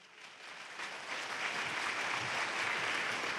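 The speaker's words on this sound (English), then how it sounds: "So let's give a round of warm applause for Mr." Warm applause from a lecture audience welcoming a speaker, a steady dense wash of clapping that swells over the first second and holds full and even, with no voices over it.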